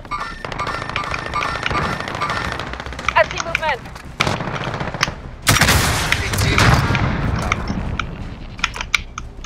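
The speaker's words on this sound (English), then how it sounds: "Who's the other guy shooting at me?" Call of Duty Warzone gameplay with rapid automatic gunfire and bursts of shots, mixed with fast keyboard clicking and a player talking over the action.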